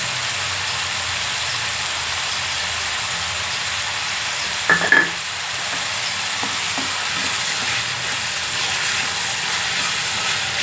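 Continuous sizzling of tomatoes and mixed vegetables frying in tempering oil for vegetable upma, steady and close, with a couple of brief scraping stirs of a utensil in the pan.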